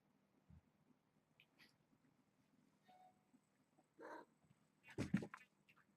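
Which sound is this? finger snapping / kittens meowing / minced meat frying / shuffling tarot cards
kittens meowing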